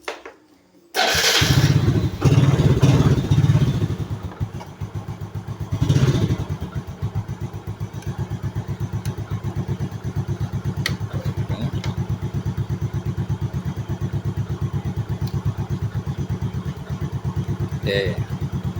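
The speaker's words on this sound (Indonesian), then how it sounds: "Oke, kita nyalakan mesinnya dulu." A motorcycle engine is started after a brief pause and settles into a steady, close idle with an even rhythmic putter, a short revving surge early on, and talk over it.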